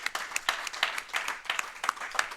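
Scattered applause and clapping at the close of a Bloons Tower Defence 6 speedrun at a live marathon event, a series of sharp, irregular claps from a small audience, moderately near and fairly quiet.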